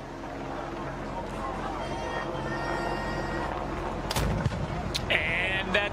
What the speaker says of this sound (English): The cannon has sounded.